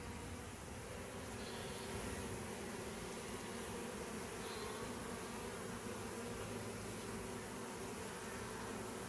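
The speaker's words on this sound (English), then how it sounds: "most of the bees went back up to the branch" A honey bee swarm gathered around a tree branch gives off a steady, dense buzzing that hums on without a break, close and fairly loud, with no voices over it.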